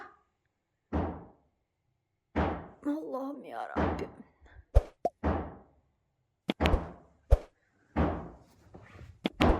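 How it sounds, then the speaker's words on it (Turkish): Heavy knocks land on a door at night in separate, irregular bursts, with a voice speaking between them. "Bu saatte kapı mı çalar be?"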